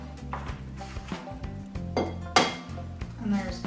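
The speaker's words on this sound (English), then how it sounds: "crack in our eggs" Eggs are cracked into a bowl that already holds sugar, with a couple of sharp taps and cracks among soft clinks of bowl and utensils, heard close up and fairly quiet.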